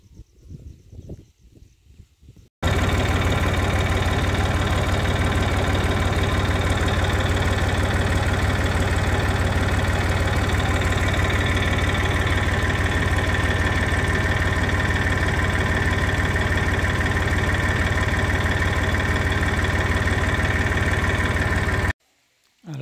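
A tractor engine runs steadily and loudly while digging carrots in a village field, a continuous mid-low drone with a slight knocking texture that starts abruptly after a quiet opening and cuts off near the end.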